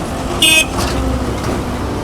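Road traffic of all sizes passing beneath the old blue-and-white Ramakrishna bridge, with a short sharp car horn toot standing out over a steady hum of vehicles.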